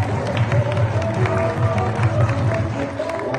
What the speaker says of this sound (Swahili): Makofi kwa dada yetu Nancy Yona